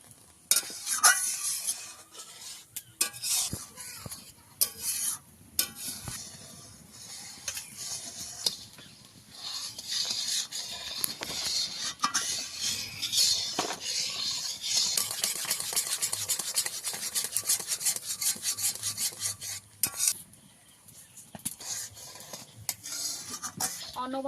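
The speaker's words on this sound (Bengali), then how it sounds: "এটা অনবরত নেড়ে আমি ভালো করে ফুটিয়ে নেব।" A spoon stirs and scrapes steadily through a ripe jackfruit mixture boiling in a pan, producing continuous close rasping and scraping strokes with a faint bubbling sizzle underneath.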